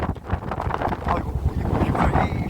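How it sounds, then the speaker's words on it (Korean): Strong wind buffets the microphone at a fishing spot in gusts of about 7 m/s, giving a steady, loud, rumbling roar with broadband noise throughout and no speech. "이 바람이 이 정도 셉니다"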